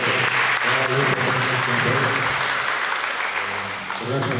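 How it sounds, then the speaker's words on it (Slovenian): An audience at a youth basketball event in Slovenska Bistrica applauds the parents, producing steady, dense clapping that fills the room from start to finish, with faint voices mixed in underneath. "da bi prosil vas, mladem, da drugi košarkarje, dati en aplavz vsem staršev"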